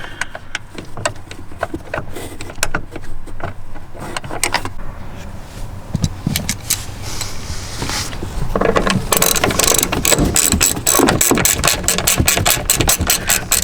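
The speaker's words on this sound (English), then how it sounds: "I also recommend having a ratchet with an extension on it, which I'm trying to do here" A ratchet fitted with an extension tightens a screw during a seatbelt reinstall in a BMW M3, giving a run of sharp, rapid clicking bursts that grow denser and louder in the second half, close to the microphone.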